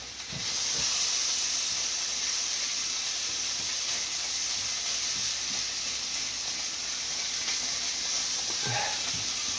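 Vegetables fry in a pan while risotto cooks alongside, giving a continuous loud hiss and sizzle across the whole stretch, close by, with a few small clinks and no voices.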